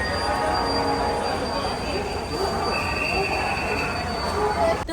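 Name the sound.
railway station platform with train, Howrah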